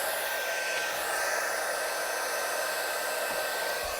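A heat gun blows hot air onto a glitter tumbler, a steady, close, hissing whoosh with a faint whine that holds constant throughout, with no other sounds.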